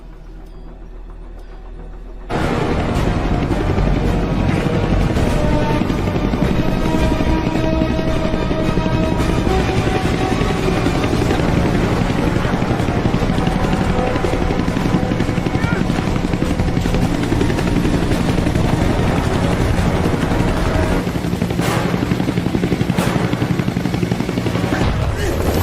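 Loud, sustained helicopter rotor noise from an action film soundtrack, starting abruptly after a quieter opening and running steadily throughout, with music and sound effects layered in.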